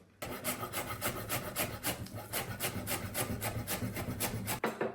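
A knife chops vegetables finely on a board, probably the trimmed stem of a mushroom. The cuts come as a steady stream of rapid, close, rhythmic taps with no talking.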